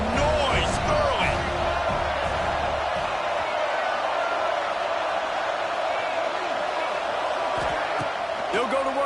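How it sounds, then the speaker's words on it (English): Stadium crowd roars steadily at a college football game between the Rebels and Penn State, a dense wash of cheering and shouting that never lets up, with a few brief whoops and thumps rising above the noise. "This crowd bringing the energy and noise early."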